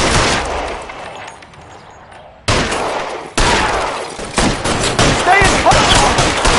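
A shootout in L.A. Noire fills the air with dense, loud gunfire as rapid bursts pile up into continuous volleys. Sharp cuts and shifts in intensity break up the firing, and shouted voices are mixed underneath.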